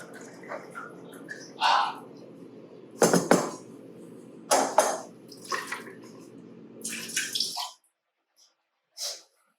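Pineapple juice pours into a mixing vessel for a mocktail in a few short gurgling splashes, close and moderately loud against a low room hum.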